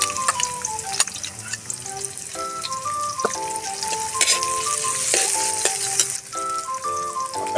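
Garlic and onion sautéing in a pan for pork giniling, a steady crackling sizzle with clinks and scrapes of a utensil, plus some tonal clanks and a stretch of running water in the background; nobody talks.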